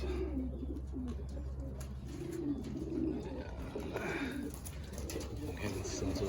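Male stock pigeons in a loft coo low and steady under background noise, with faint chirps and rustling scattered throughout and no clear talk.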